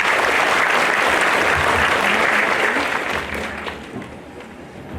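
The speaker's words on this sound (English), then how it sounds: "shall we all give another round of applause for Zilla Choir" An audience at a formal ceremony gives a round of applause for a choir, loud dense clapping that holds steady then gradually fades toward the end.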